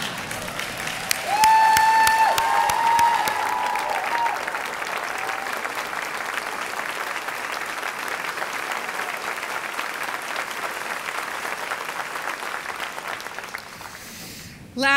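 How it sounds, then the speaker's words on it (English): A large audience at a book awards ceremony rises in a standing ovation, sustained loud applause filling the hall for about fourteen seconds, beginning strongly and slowly easing, with a few voices under the clapping. "please stand up and give her a huge round of applause"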